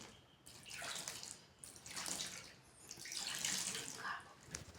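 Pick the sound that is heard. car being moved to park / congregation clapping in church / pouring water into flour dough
pouring water into flour dough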